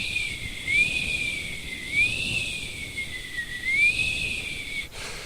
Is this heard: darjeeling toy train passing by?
no